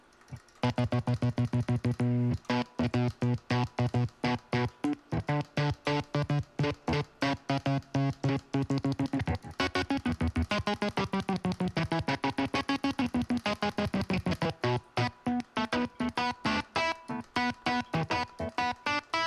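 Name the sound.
electric guitar with distortion, kill switch effect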